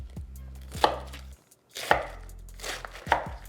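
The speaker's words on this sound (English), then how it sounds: "You want to give it a beautiful chop." A knife chops through green cabbage for a salad, landing three crisp, crunchy strikes on the board about a second apart, close-up over a low steady hum that cuts out briefly midway.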